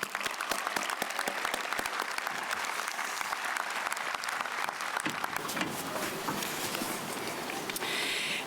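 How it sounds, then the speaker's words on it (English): A large graduation crowd at a high school ceremony applauds special guests, with dense, sustained clapping filling the hall throughout and staying loud and even to the end. "please give our special guests a round of applause"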